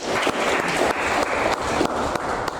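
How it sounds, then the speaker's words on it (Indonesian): An audience at a university youth forum applauds throughout, with dense, steady clapping at a fairly loud level and no pauses. "Kasih tepuk tangan dulu ya."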